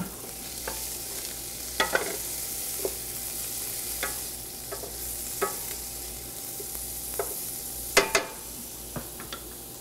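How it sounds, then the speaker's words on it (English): Nuts are stirred into a sizzling pan, a soft steady frying hiss carrying sharp scraping and clinking strikes of the spoon at irregular intervals, close by and without talk. "I'm going to throw in the nuts with a good stir all the way around."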